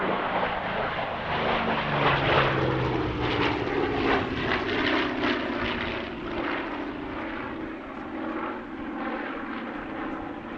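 A Douglas A-26 propeller aircraft passes at the Duxford airshow, a loud, steady piston-engine drone with a slowly falling pitch as it flies by, alone without voices.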